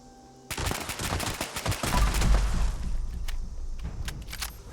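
Rapid gunfire in the game Fallout 76, a loud close burst of repeated shots starting abruptly and running on with booming impacts and a rumbling tail, no talking.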